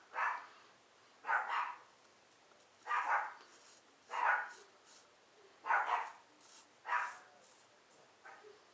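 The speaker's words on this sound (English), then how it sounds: "Not everybody appreciates having a dog barking at 4:40 in the morning" A dog barks repeatedly at a steady pace, about eight sharp barks with short pauses between them, fairly distant against a quiet background.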